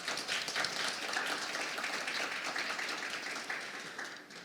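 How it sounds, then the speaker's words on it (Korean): A conference audience at a banking and financial innovation session gives panel speakers a round of applause, a soft, continuous wash of many hands clapping at a distance, fading slightly at the end. "큰 박수 부탁드립니다"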